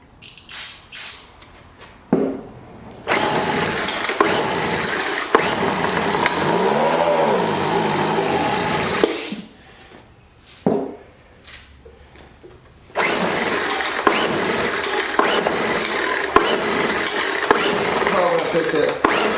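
A scrapped Craftsman 4-stroke weed eater engine starting after pull attempts, running with a buzzing drone for several seconds, dying, then firing up again and running steadily, with brief speech in between.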